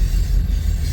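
A Union Pacific coal train rolls past with a dense, loud low rumble and steady rail noise filling the whole brief moment, no voices.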